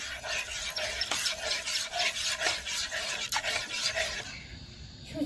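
Semolina being mixed in a pan with salt for savoury semolina pocket singara: repeated rasping, scraping strokes of a spoon against the pan, close up and fairly quiet, in an uneven rhythm.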